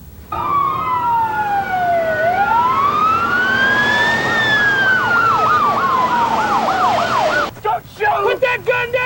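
Emergency vehicle siren wailing loud and close, sweeping up and down then switching to a fast yelp before cutting off into choppy bursts near the end.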